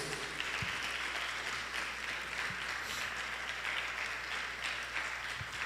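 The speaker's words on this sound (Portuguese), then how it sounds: "Você pode aplaudir Jesus?" A church congregation applauding, a steady wash of clapping hands filling the room at moderate level, continuous and unbroken with no speech over it.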